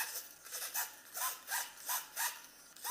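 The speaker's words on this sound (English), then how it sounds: "you can hear the servos." Servos on an E-Sky Airwolf RC helicopter make faint, repeated short whirring strokes in a steady rhythm, close by and quiet, with no voices.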